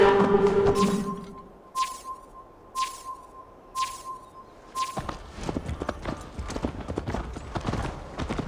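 Rhythmic hoofbeats of a horse in Assassin's Creed Valhalla clip-clop at a steady pace, then quicken into a busier gallop, with a faint tone and ambient wind behind.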